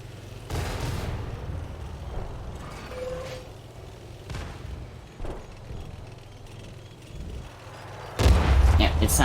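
Artillery fire in a tank battle video game: several deep booming shots and impacts at irregular intervals over an engine rumble, with a loud blast near the end.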